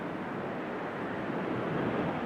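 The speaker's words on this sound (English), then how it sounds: "quite windy on the corner" Steady, loud wind roaring across an exposed lighthouse corner on the south coast of England, a continuous broadband rush with surf-like texture and no talk.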